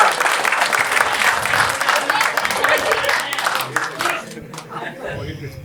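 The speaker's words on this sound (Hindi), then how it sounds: "एक बार तालियां बजा दो यार एक बार अपने लिए।" Audience applause at a Hindi stand-up poetry show fills the room in a dense, steady patter of many hands, fading slightly near the end, with voices and a few chuckles mixed in.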